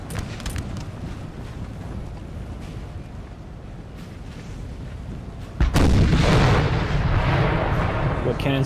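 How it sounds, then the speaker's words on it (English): Cannon artillery fires in a Napoleon Total War battle. A rumbling battlefield din turns into a loud, sustained barrage of booming shots about two-thirds of the way through. "Got cannons pointed which way and that way and every way."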